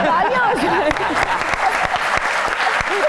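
A studio audience at a comedy mimicry show claps in a brisk burst, several sharper individual claps standing out, while a voice talks over the applause throughout.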